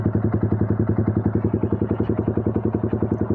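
A Yamaha R15 V3 motorcycle with an SC Project exhaust runs at slightly raised revs, giving an even, rapid, throbbing exhaust pulse up close.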